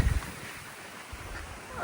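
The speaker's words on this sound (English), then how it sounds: "So windy out here now. Like these gusts, whoa!" Strong wind gusts up to about 40 mph buffet the microphone outdoors, with low rumbling gusts swelling and fading; no clear talk.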